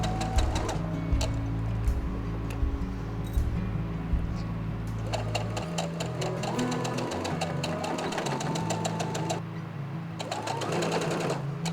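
A sewing machine runs steadily while top stitching a frilled fabric collar, starting from the straps; a continuous close mechanical whir with rapid needle clatter, pausing briefly before resuming.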